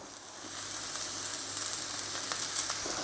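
Tafelspitz steak fries in a pan with a crushed garlic clove and rosemary, giving a steady, fairly quiet sizzle with faint crackles, without talk.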